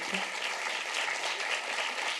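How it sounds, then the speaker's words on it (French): Audience applause greets a guest at a French-language evening event, a steady dense patter of clapping heard at a soft, slightly distant level throughout. "Je vous demande de l'applaudir."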